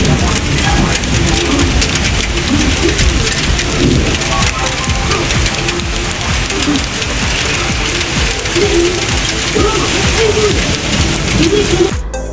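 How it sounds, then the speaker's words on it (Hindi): Heavy rain pours steadily and loudly for the whole stretch, a dense continuous hiss with occasional low rumbles of thunder underneath, during an evening storm in Pakistan. "बारिश बहुत तेज़ हो रही है।"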